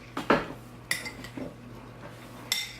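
A spoon stirs cinnamon and vanilla in a bowl, tapping and scraping the rim with a few bright clinks spaced apart, close and quiet, no speech.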